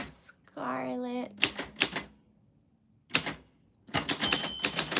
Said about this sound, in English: I'm gonna do some typewriter ASMR as promised